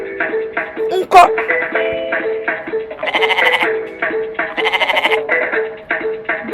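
A goat bleats several times in a row, nasal wavering cries at close range, some rising louder in the middle, with a brief sharp click near the start.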